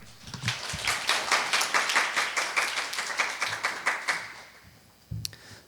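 An audience claps after a business presentation on the senior market, giving a steady, full round of applause that swells and then fades over several seconds, ending with a few stray claps.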